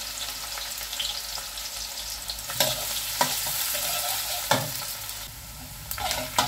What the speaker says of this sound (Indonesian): sekarang masak bongso, bawang merah, bawang putih, jahenya terlebih dahulu